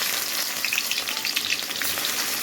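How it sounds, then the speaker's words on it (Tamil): Sliced onions fry in hot oil for a chicken semi-gravy, giving a steady close sizzle with small crackles and pops throughout, no talking. "இப்போ நம்ம இந்த வெங்காயத்தை நல்லா வதக்கலாம்."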